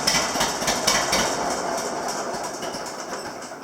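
A John Deere 730 tractor engine is being shut off, its close, rhythmic, heavy chugging clatter gradually easing and fading down.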